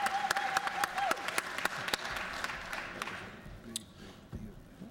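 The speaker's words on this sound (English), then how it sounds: "So please give them another round of applause as Coach Downs comes up to speak." Scattered clapping from an audience at a session of the Georgia House of Representatives, a faint spread of sharp individual claps that thins out toward the end, with some distant voices.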